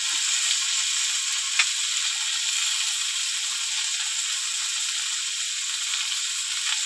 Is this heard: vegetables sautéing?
yes